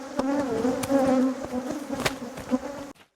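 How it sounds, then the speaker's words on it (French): Honeybees buzzing steadily around a hive colony under inspection in Côte d'Ivoire, a dense close drone with a few sharp clicks and knocks through it, ending abruptly. "nous retrouvons Alex en pleine vérification de l'état de la colonie"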